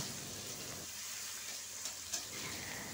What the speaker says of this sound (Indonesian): Dan kita lanjutkan menumis sampai bumbunya matang dan harum.